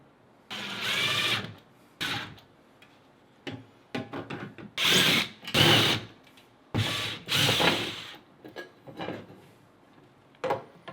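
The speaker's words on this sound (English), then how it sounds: "Just pre-drilling my holes." A power drill pre-drilling holes in drywall for steel anchors whirs in several short bursts of varying length, separated by brief pauses, close by and fairly loud.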